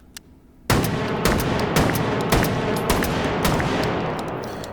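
Rapid semi-automatic shotgun blasts in the VR game Hot Dogs, Horseshoes and Hand Grenades, about ten loud sharp reports fired in quick irregular succession at a target after a brief quiet start, each shot ringing into the next.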